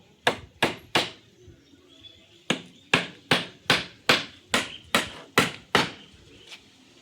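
Nails are hammered into a rabbit shed door: a dozen sharp, ringing strikes come close up, in quick uneven runs with short pauses between them.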